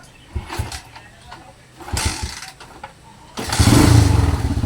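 A Blaze 150 motorcycle with its stock CDI converted to battery operation cranks with a few uneven starter attempts, then catches and settles into a loud, close, steady running engine.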